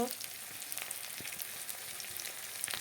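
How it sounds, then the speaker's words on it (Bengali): Chopped onions and green chillies fry in hot oil with a continuous close, even sizzle and a few faint crackles, with no talking. "দেখো তেলটা গরম হয়ে গেল পেঁয়াজ দিয়ে দিলাম দেখো কাঁচা লঙ্কা পেঁয়াজ দিয়ে দিলাম"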